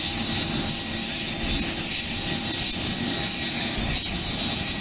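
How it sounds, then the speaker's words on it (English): Aircraft engines roar at Aurora Municipal Airport as planes move on the field, a steady, loud, broadband rumble and whine that holds without pause throughout. "I got planes. Look at that. And they're moving. Check that thrust out."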